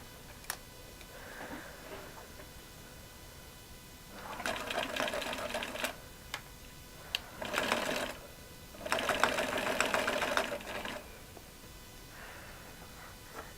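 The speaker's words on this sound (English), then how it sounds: "Now I'm going to stitch down here and we'll see how it's going to stay all nice and closed." Sewing machine stitching bias tape down along a cotton shirt seam, running in three clear bursts of rapid whirring stitches separated by quiet pauses, close and fairly loud.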